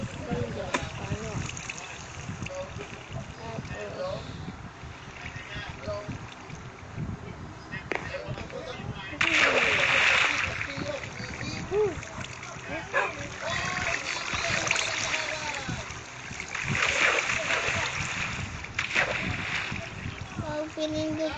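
Water splashes and sloshes as a character swims in Minecraft, with repeated splashy bursts over a continuous wash, under someone speaking excitedly throughout.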